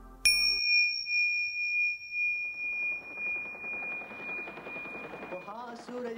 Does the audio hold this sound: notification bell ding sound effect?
yes